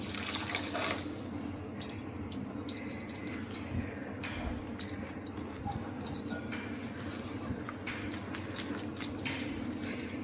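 Cooking water left over from boiled lentils (dal) is poured into a gram flour batter in a home kitchen, giving a steady, continuous trickling and splashing of liquid that runs without pause at moderate volume.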